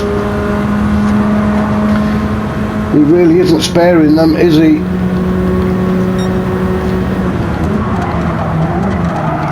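Racing car engines roar steadily in Gran Turismo 7 at Goodwood while tyres squeal in a short wavering burst midway, with someone commentating over the top throughout.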